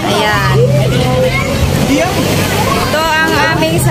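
A motorized outrigger bangka boat idles and runs at Matabungkay Beach, Lian, Batangas, its steady engine drone and water noise sitting beneath continuous nearby talk from passengers.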